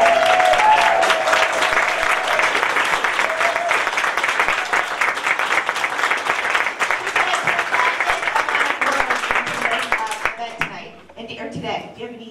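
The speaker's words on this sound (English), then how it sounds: "can everybody give Shauna a round of applause?" Loud, sustained audience applause for a speaker at the close of a talk, thick clapping that carries on steadily for about ten seconds before thinning out at the end.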